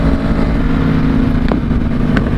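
A sport motorcycle's exhaust roars loud and close as the rider downshifts, with a couple of brief sharp backfire pops over the steady engine drone.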